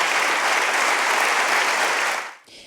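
Loud, dense applause and cheering from a room audience after a governor's speech, sustained evenly for over two seconds before cutting off abruptly.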